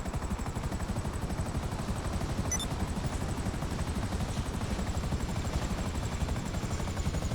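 Rapid, steady thumping of video game attack helicopter rotor blades (Buzzard Attack Chopper) with a droning engine whine, holding constant throughout as if hovering nearby.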